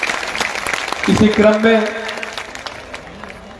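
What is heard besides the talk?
audience applause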